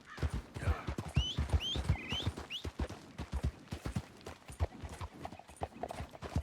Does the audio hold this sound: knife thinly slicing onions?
no